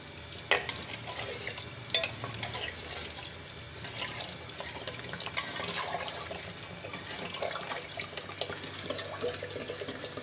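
Water, 1.5 litres, poured into a pot of chicken nihari after flour has been added, making a steady splashing, gurgling flow that runs throughout at moderate loudness with no talk.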